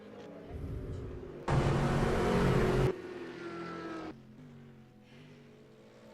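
Ferrari GT3 race car engine in the rFactor 2 racing game, a steady droning roar that swells sharply to a loud close pass mid-clip, then settles back to a lower hum.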